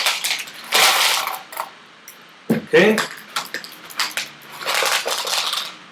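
A homemade plastic bead shaker rattles in a few bursts, bright and crisp, with short pauses between shakes and a brief spoken word in the middle.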